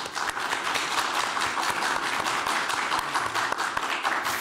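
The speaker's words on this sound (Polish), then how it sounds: "Myślę, że należą się brawa." Applause from an audience at the final of a Polish quiz contest, steady, dense clapping filling the whole stretch, fairly close and even in loudness.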